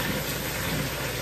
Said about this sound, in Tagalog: Huli na lang lulutuin ko ay yung isda na pinirito.